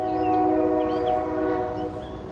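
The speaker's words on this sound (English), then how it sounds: "There's a train." A train horn sounds near a lake, a loud sustained chord of steady tones holding for a couple of seconds with a rumbling rail background, no talking.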